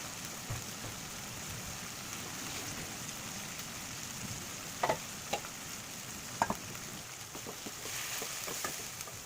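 Onion and nut paste with spices frying in a pan: a steady low sizzle throughout, broken by a few sharp stirring scrapes near the middle and toward the end.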